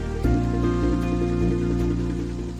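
Steady rain falls continuously, a broad wash of drops heard alone beneath a sustained low tonal bed, with no speech.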